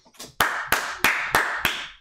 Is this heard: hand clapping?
yes